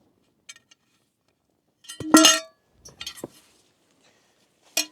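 A metal camping frying pan clinks and clatters a few times in short, sharp bursts, with quiet gaps between, close by.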